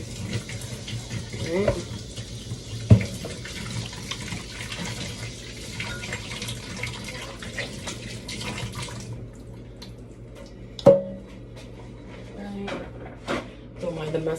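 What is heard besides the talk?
tap water running while washing hands at sink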